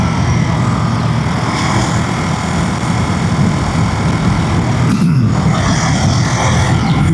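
A Ducati Monster naked sports bike ridden in sport mode in third gear, its engine a loud, steady, dense drone mixed with wind rush, with a brief surge in the middle.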